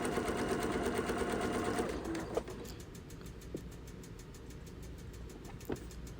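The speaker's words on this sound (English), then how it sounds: "sewing a straight stitch all the way down from corner to corner" Sewing machine running a straight stitch across quilt fabric for a half-square triangle block, a steady loud whir for about two seconds, then stopping, leaving faint clicks and light handling noise.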